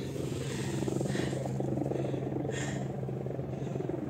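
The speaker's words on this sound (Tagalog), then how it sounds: "May sinundo na ng helicopter dun sa kabilang bundok." A helicopter flies near a mountain on a hike, a steady droning rotor hum that holds level throughout with no talk over it.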